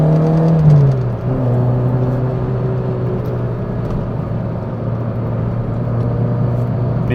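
A Peugeot 205 1.9 GTI engine hums steadily from inside the car, a loud, continuous drone that drops in pitch early on as the gears change down, with no talking.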